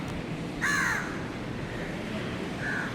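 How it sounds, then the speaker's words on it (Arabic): A crow caws twice on a rooftop overlooking Kuala Lumpur at night, a short harsh call followed by a fainter one against a steady background hum. "ده الغراب اللي عامل الصوت ده كله."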